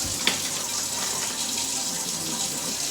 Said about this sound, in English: I'm going to run the tap water because I'm going to need hot water.